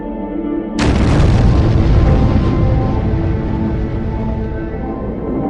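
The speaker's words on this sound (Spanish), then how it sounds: "el Mando Norteamericano de Defensa Aeroespacial detecta una formidable explosión que sacude el paisaje siberiano" A huge non-nuclear explosion shakes the Siberian landscape at a pipeline: a sudden loud blast breaks the near quiet and turns into a deep, sustained roar that fades slowly over several seconds.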